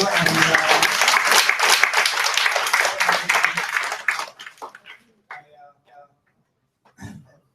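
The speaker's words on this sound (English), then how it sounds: "round of applause for Anu" A burst of audience applause at a data visualization meetup, loud and dense for about four seconds before thinning to a few scattered claps, then near silence broken by brief sounds.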